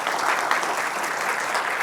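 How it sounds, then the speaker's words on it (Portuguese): A crowd at an accountants' gathering claps steadily to welcome a guest speaker, a dense, even wash of many hands that holds at a constant level throughout. "Salva de palmas, pessoal"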